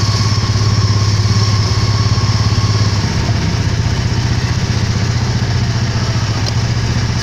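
A hot rod engine runs in gear with a loud, steady low rumble and a rapid, even pulse that shifts slightly partway through and continues to the end.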